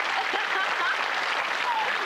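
A studio audience on a TV game show claps in a steady, moderately quiet round of applause, with a few faint voices and squeaks over the clapping.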